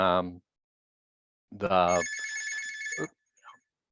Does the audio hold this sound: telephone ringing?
yes